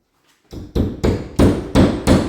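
A small shank nail hammered into a wall: five sharp, loud hammer blows in quick, even succession, close up, with no talk.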